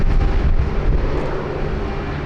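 Jet engines of the QF1 airliner run on the apron at Sydney Airport, giving a loud, steady, broadband roar that eases slightly over a couple of seconds, with no talk over it.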